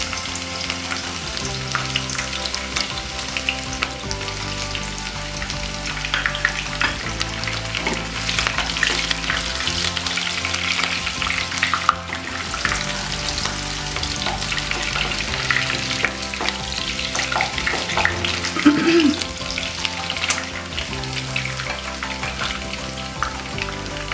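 Chopped onions frying in hot oil, a loud, continuous close-up sizzle with scattered crackles and stirring sounds over a faint background hum, lasting throughout with no voices.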